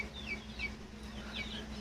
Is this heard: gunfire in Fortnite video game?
no